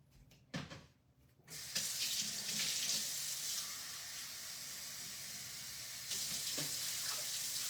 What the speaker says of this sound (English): I've got the rice. I just need to add water.